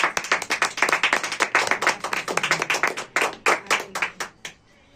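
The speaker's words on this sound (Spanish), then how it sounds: "Denle un aplauso fuerte al Señor" A church congregation claps hard and fast in a loud, dense burst of close handclaps, thinning into a few scattered claps before stopping near the end.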